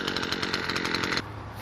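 Stihl string trimmer edging landscape borders, a loud buzzing two-stroke drone with pulsing rhythm that drops abruptly to a lower idle near the end.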